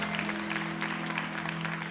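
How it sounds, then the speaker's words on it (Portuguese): A church congregation applauds to welcome a pastor, a dense continuous wash of clapping layered over a steady low electrical hum. "Com palmas a Jesus, em nome do nosso Deus."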